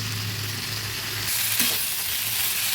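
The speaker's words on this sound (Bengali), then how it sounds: "ভেজে নিলাম।" Ingredients for kabuli chana paneer frying in a pan, a steady close sizzle with a low hum underneath that brightens and grows slightly louder midway, with a brief stir or clink, no voices.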